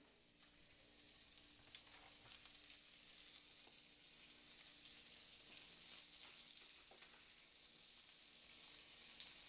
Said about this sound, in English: the pan is hot,